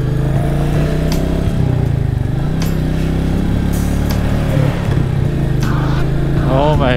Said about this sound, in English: This is the Royal Enfield Meteor 350.